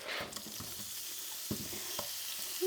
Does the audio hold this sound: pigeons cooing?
no